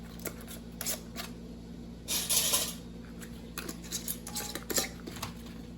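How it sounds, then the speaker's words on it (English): Metal screw bands and lids being fitted onto glass canning jars: light clinks and scraping metallic rattles, with a louder burst of clattering midway, close and fairly quiet over a faint steady hum. "And then I put on my lid, and I grab my screw bands"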